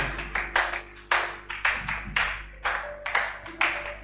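A church congregation claps in praise of the Lord, steady sharp hand claps in an irregular rhythm over a low hum, fairly close and without voices.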